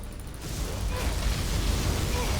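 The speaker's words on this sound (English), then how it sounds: "Particle cannon activated." A particle cannon fires in the Generals Zero Hour real-time strategy game, a loud, sustained roaring blast with heavy low rumble that swells in and holds steadily without pause.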